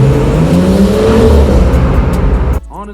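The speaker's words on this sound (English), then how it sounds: "The next thing that I love about the 340i is the noise that it makes." A BMW 340i inline six engine and exhaust rev loudly and close up, a continuous metallic roar with rising and falling pitch for a couple of seconds before cutting off abruptly.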